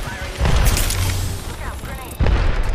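Grenade explosions in the Apex Legends video game sound as two loud booming blasts, about two seconds apart, mixed with game noise and some voice activity.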